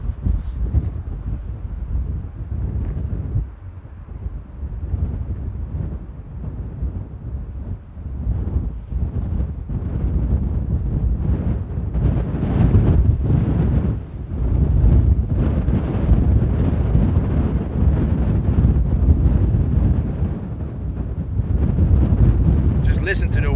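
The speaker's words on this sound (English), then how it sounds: "Listen to the wind, folks." Strong wind buffeting the microphone at Amsterdam Airport, a heavy low rumbling roar that surges and gusts continuously, with someone speaking faintly beneath it.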